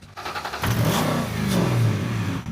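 A Ford Mustang GT V8 engine catches and runs, rising quickly into a loud, close rev and then holding a rough, steady roar.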